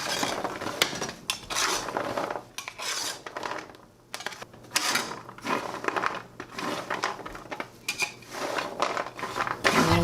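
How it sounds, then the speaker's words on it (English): A utensil scrapes and stirs caramel pecans across a metal cookie sheet, with repeated close scraping and clinking strokes, rough and continuous with brief pauses. "Okay, time to stir."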